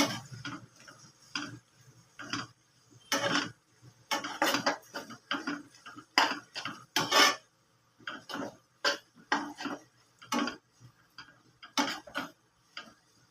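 A spoon mixes chilli powder and salt into a bottle gourd peel curry, tapping and scraping the pan in a quick, uneven ticking rhythm of close clinks over quiet gaps.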